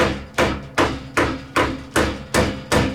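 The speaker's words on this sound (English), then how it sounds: "I'm using the height side of a hammer just to gently" A hammer gently taps softened copper while flanging a model boiler plate, eight evenly spaced metallic knocks in a steady rhythm, close and clear with nothing else heard.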